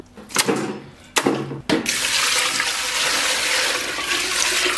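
Water runs into a pressure cooker after a few quick clunks, then settles into a steady, loud, close rush that fills the rest of the moment.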